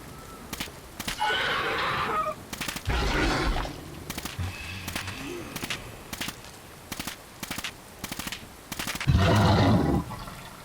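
Gunfire in the video game Fallout 4 with a zombie apocalypse mod, heard as sharp rapid shots in rhythmic bursts through the clip along with louder rumbling blasts, with no talk.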